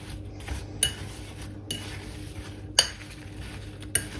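Cinnamon and apples are mixed in a bowl for an apple crumble, with a soft steady scraping and a few sharp clinks of a utensil against the bowl at irregular intervals.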